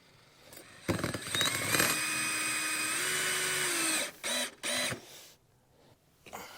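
A power drill drives screws into L-shaped brackets while a whole house fan is installed, a close whirring run that rises in pitch, then two short bursts.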